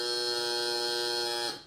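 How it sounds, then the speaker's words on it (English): An underblown bagpipe practice chanter, played without enough air, holds a single buzzy, harsh reed note steadily for over a second before it stops abruptly. "So if I was to underblow this, the chanter would sound like this."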